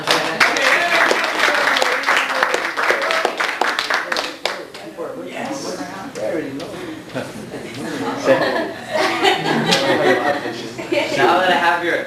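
A crowd claps and laughs, applause rattling loudly at first, then thinning into scattered chuckles and chatter before swelling again.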